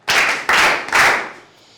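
A classroom of students claps together in three quick bursts, each a dense spray of hand claps, loud and close, fading after the third with no talk.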